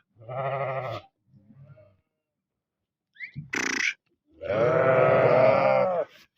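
Several loud, close sheep bleats from a flock of an unfamiliar breed, some with udder illness: a sustained wavering bleat, a short sharp cry mid-clip, then a long quavering bleat, with brief quiet gaps between.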